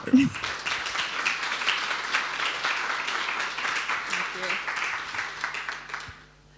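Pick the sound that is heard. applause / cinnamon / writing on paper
applause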